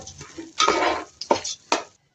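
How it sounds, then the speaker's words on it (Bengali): Rice for beef biryani is fried and stirred in a pot, giving a few short scraping and rattling strokes of a spoon against metal, close and moderately loud, alone. "এখন চালটাকে ভেজে নেব।"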